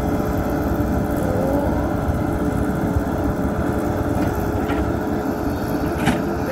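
A Kobelco-style SK120-3 excavator engine runs steadily and loudly at close range with a constant rumbling drone, operated by a new driver near Tha Thong river basin, no voices present.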